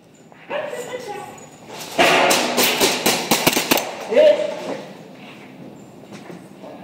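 Airsoft BB guns fire in a rapid burst of sharp clicking shots during an outdoor territories game, with people talking and calling out around the volley.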